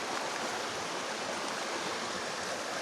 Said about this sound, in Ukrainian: Ось такий струмок.